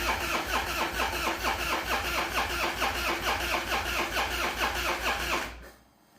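A Harley Dyna motorcycle engine cranks over with a rapid, rhythmic starter chug that runs steadily for over five seconds before cutting off, heard up close while the tank and fuel pump are being serviced.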